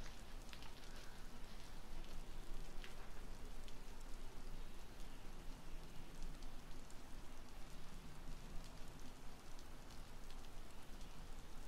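Rain falling in a video game, a soft, steady hiss of continuous rainfall with faint scattered drops, quiet and unbroken throughout with no voices.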